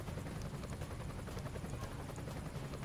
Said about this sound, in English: I will also go ahead and move this helicopter out of the way